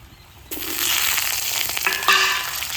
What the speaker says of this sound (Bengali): সাদা তেল দিয়ে একটু গরম করে নেব আলু দিয়ে প্রথমত ভেজে নেব